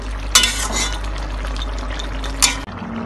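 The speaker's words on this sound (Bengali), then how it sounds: "মাছটা দিয়ে নাড়া দিয়ে নেবো ভালো করে" Small fish being stirred into a pumpkin curry in a pan, a spatula scraping and turning in a few strokes over a continuous close sizzle and low hum that drops away near the end.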